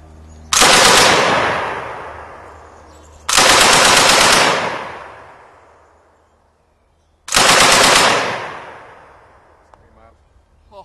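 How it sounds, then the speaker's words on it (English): Three loud, close bursts of Lewis gun machine-gun fire at an outdoor range, each a dense rapid volley lasting about two seconds, separated by quiet gaps and trailing off with echo. "This is what most people don't understand, is how smooth this gun shoots."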